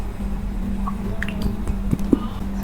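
Shaken hair dye developer pours into the dye mixture, giving soft wet drips and squishy liquid sounds close by over a steady low hum, with a couple of sharper splats toward the end.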